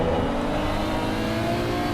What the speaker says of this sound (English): You can hear that roar of the engine, that turbo